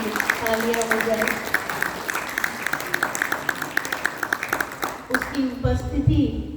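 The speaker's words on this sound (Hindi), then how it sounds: "तो एक बार तालियों द्वारा शिव बाबा के लिए तालियां हो जाए" An audience at a Brahma Kumaris gathering claps for Shiv Baba, a lively patter of many hands that rises and falls under singing or amplified voices, then a brief lull before a louder swell near the end.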